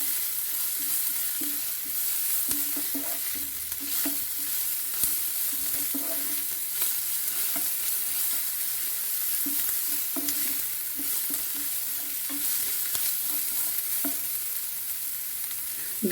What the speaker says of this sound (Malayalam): ഇഞ്ചി അരച്ചത്, ginger paste, 1 spoon garlic paste ഇത്രയും ചേർത്ത് നമുക്ക് നന്നായിട്ടൊന്ന് വഴറ്റിയെടുക്കാം